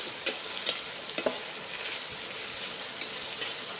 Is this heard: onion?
yes